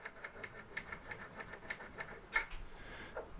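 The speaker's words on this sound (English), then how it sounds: "Just file a little land on this." A hand file scrapes a small land onto the edge of a little woodworking plane's blade, a series of faint, quick rasping strokes in a steady rhythm, close and quiet with no voices.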